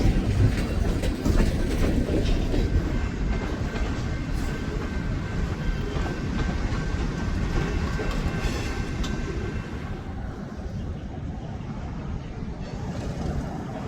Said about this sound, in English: He stops just before entering the NS main to let some higher priority trains pass